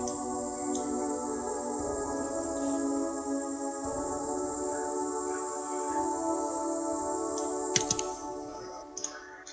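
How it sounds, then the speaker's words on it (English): Choir sample in an FL Studio beat for a remake of a song: quiet, sustained layered vocal-like chords hold throughout, with a few faint clicks near the end. "Now I'll show you the choir again one more time."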